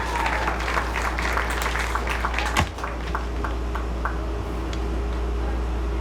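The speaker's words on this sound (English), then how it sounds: "Give a big round of applause for our 2021 boys lacrosse varsity team." Audience applause at a high school athletic awards ceremony, honoring the 2021 boys varsity lacrosse team; steady clapping from a crowd in a hall, sustained and fairly even, with a sharp louder clap partway through.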